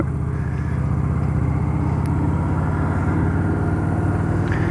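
Honda Shadow motorcycle held in first gear, its engine droning steadily and loudly with a low, even pulse and wind rush throughout, with no voices.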